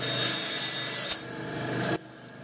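A saw cuts strips from clear plastic CD cases, a steady loud buzzing rasp that drops at about one second and again near two seconds as the blade passes through, with no voices.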